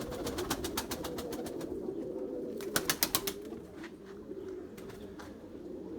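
Pet pigeons coo in rapid, repeated pulses close by, the bursts coming in quick runs with brief gaps between them.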